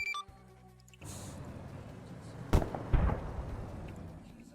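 Gunfire in the military shooter Arma 3, with two sharp distant-sounding shots about half a second apart over a steady rumbling battlefield background.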